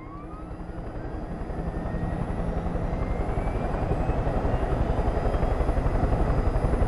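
A video game helicopter's rotor thumps in a steady rapid beat with a droning engine whine, loud and constant, growing slightly stronger over time, in Far Cry 5.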